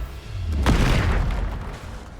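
A single Bombarda spell blast in Hogwarts Legacy, a close, booming explosion that hits sharply and then rumbles away over about a second, with no voices.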